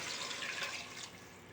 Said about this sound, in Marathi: कुकरचा एक डबा भरून पाणी ओतूया